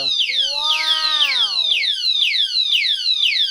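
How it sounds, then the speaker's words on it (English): Loud electronic alarm from an alarmed motorcycle padlock, sounding a repeating falling warble of rapid sweeping tones close by while a voice briefly exclaims over it. "So it sounds the alarm."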